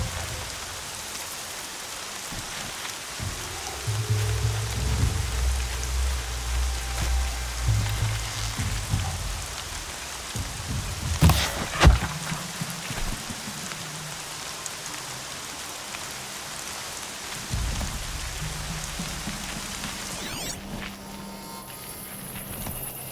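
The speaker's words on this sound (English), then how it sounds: "Rain's not so bad." Rain falls in the video game Horizon Zero Dawn as a steady, even hiss of drops on surfaces, with a few low tones and occasional soft thuds underneath and no talking.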